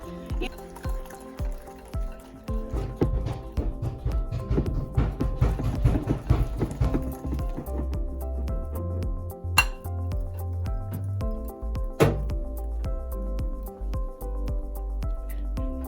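Dalgona coffee mixture whisked by hand with a beater in a bowl, a steady fast clinking and scraping rhythm of metal against the dish, close and continuous, with a few sharper knocks.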